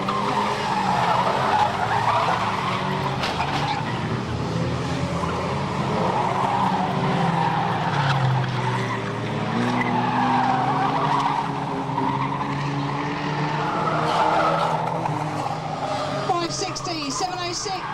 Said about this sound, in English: Oh, that was a nice little spin there